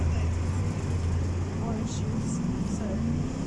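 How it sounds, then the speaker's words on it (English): Steady street traffic rumbles outside a police station in Bristol in the lead-up to Christmas, a constant low drone of passing vehicles with faint higher noises now and then. "It's a bit noisy with traffic"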